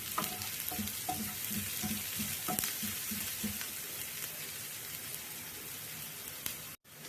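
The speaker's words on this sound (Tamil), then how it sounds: "அதையும் நல்லா அப்படியே வதக்கிடும்" Garlic sizzling and crackling steadily in a hot pan, with faint rhythmic stirring taps early on; no voices.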